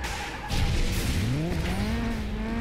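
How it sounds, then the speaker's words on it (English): Cars in the racing video game FlatOut 2 skidding and wrecking, with loud engine drone and tire squeals sliding in pitch throughout, a sustained close roar with no talk. "Well, I was until I just wrecked Jason"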